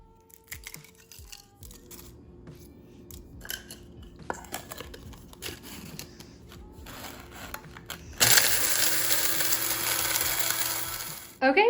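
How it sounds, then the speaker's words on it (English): A coffee grinder pulverizes eggshells into fine calcium powder, first a few scattered clatters and rattles, then a loud, steady, close-up whirring grind that runs to the end. "what did you do to my coffee grinder?"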